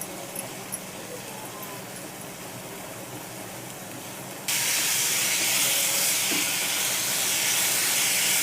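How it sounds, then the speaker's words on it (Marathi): Soaked dal sizzles and hisses steadily while frying in hot oil in a pan, a continuous bright hiss that swells louder halfway through and carries on without pause. "डाळ घालते भिजलेली. हे पण चांगलं परतू द्यायचं जरा, कारण डाळीचा कच्चेपणा निघेल असं."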